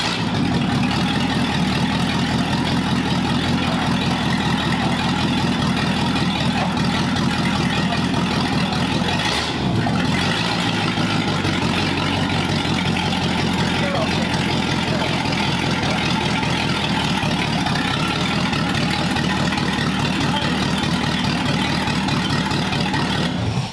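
A Cadillac engine in a 1938 Ford idles, a steady low rumbling drone that runs the whole time with a brief dip partway through, close and fairly loud, with no talk over it.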